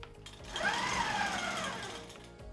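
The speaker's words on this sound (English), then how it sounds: "now we're gonna sew up this side" A QMP 16 quilting sewing machine stitches quilt binding in one short, steady whirring run that swells and fades, close and moderately loud, with no voices.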